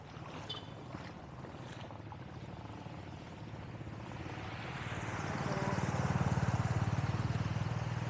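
A motorcycle pushing through a flooded street in a flood-prone area of Bulacan, with a steady low churning rumble of engine and water that swells louder over the last few seconds and no talking.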